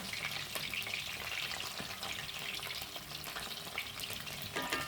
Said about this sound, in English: So I'm going to let that fry right now